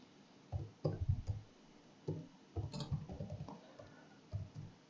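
Quiet keyboard typing during a C++ programming lesson, with irregular bursts of soft clicks separated by short pauses.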